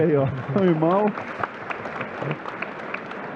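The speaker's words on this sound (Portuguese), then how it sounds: "Uma salva de palmas de novo pro Bruno pela generosidade." Audience applause at a FEBRABAN TECH banking conference, given to Bruno Setúbal. Someone speaks briefly, then a steady, moderate patter of clapping fills the room for the remaining seconds.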